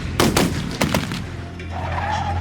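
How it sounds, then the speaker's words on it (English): Several gunshots fired in a crime reenactment ring out in a quick burst of about four or five sharp, loud cracks within the first second, followed by a low rumbling tail. No one speaks. "he heard several gunshots"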